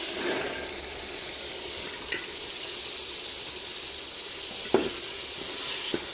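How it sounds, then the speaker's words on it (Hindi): Peas go into a hot pan of sizzling oil with green chillies and are stirred, giving a continuous loud frying hiss with a few sharp clinks of a spoon against the pan, and no voices. "अब हम इसमें मटर डालेंगे।"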